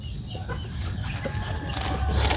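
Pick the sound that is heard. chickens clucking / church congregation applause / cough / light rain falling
chickens clucking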